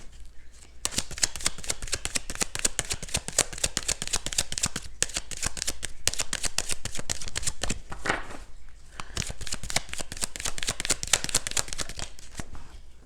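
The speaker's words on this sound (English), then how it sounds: "Let's pull another card." A Kipper fortune-telling deck is shuffled by hand in long, steady runs of rapid, crisp card flutters and clicks, close and fairly soft, with one brief pause midway.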